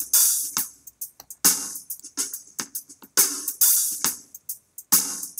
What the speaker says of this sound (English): archetypal flangey sound applied to that drum loop